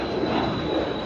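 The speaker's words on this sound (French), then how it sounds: "il n'y aurait pas un avion qui serait en train de décoller là" An airplane takes off near the Paul Ricard circuit during the 2021 French Grand Prix, a steady, loud jet roar filling the short moment without any talk.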